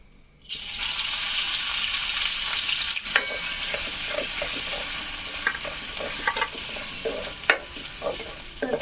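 Garlic dropped into hot oil bursts into a loud, close sizzle that settles into steady frying with scattered pops and spatula scrapes.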